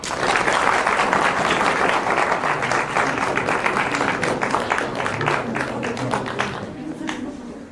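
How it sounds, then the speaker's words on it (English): An audience claps at a children's theatre festival at school, sustained dense applause that stays loud and then slowly thins toward the end, with cheering voices mixed in. "So can we have a round of applause for him?"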